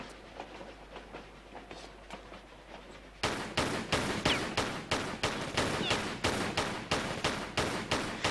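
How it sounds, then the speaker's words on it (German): In Tomb Raider IV, an enemy fires a rapid series of evenly spaced shots, softer at first, then sharply louder and continuing in a steady rhythm of about two bangs per second, with no talk. "Ja, soll er ruhig auf mich schießen."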